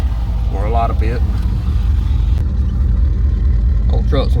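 A Chevrolet C10 truck swapped to a 6.0 engine rolls up with a steady low rumble running under the whole stretch, while someone talks briefly over it near the start and again at the end.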